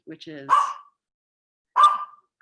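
A dog upset by nearby fireworks lets out two sharp, loud barks about a second apart, close to the microphone, with a brief spoken phrase just before.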